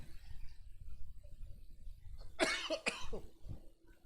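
Two quick coughs close by, sharp and raspy, against a quiet low background hum.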